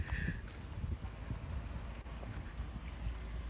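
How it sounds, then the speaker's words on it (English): Gusty outdoor breeze buffets the microphone with low rumbling bursts, steady and fairly faint, with no talking. "It's a little breezy out here, so hopefully you can hear me"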